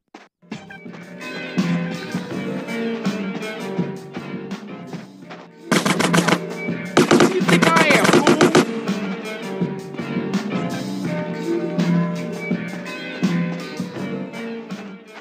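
Automatic gunfire in GTA San Andreas, a long rattling stream of rapid shots that grows denser and louder partway through, over steady background game sound.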